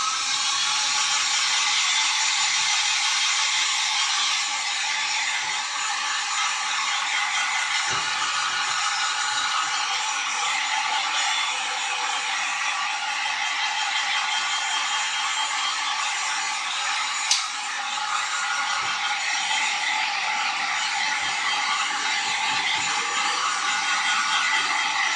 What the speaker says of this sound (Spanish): para el tutorial yo lo voy a secar con el secador